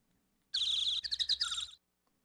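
Bright, busy bird chirping from Phoenix Wright: Ace Attorney, a dense burst of overlapping tweets lasting about a second, fairly loud and alone, then quiet.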